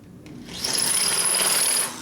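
A drill motor on a rebuild of a 1958 Harley panhead 74ci top end whirs up with a bright, high whine, runs for about a second while drilling, then winds down, close and fairly quiet.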